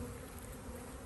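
Bees hum steadily around a nuc beehive during a hive inspection, a dense continuous buzz held close and even throughout.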